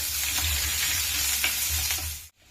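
Onion crackling and sizzling in a hot pan for chapati chivda, a close continuous hiss with small pops and scraping stirs, cutting off abruptly just before the end.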